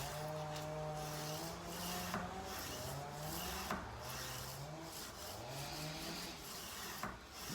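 Hand sanding of a knife blade with 1500 grit sandpaper, a steady soft rasping rub at close range that repeats in slow strokes, with a low background hum underneath.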